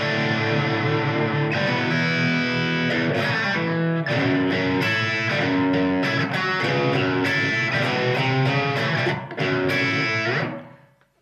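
An electric guitar plays chords and riffs through a Blackstar ID:Core V3 amp's mildly overdriven British low-gain crunch tone with room reverb, steady for several seconds before ringing out and fading.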